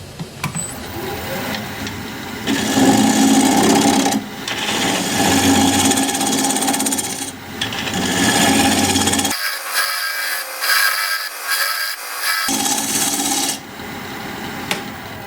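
A wood lathe turns the bottom of a pecky cherry bowl, giving a steady, loud broadband cutting hiss and scrape. It pauses briefly several times, then resumes, with no voices.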